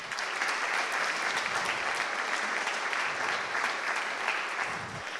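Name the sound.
audience applause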